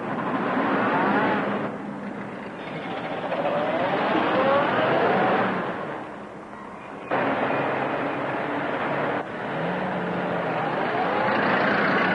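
An old car's engine roars as it drives off in pursuit, the motor loud and close, swelling and dipping through gear changes and shifts in distance over twelve seconds, with no voices heard.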